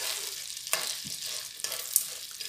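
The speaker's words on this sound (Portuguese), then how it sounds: "Vou mexer aqui para só virar de cima desse, para aquecer o milho melhor." Popcorn kernels stirred in butter in a pan, a soft continuous sizzle with a few scraping strokes and light clinks as the kernels are turned, fairly quiet and close.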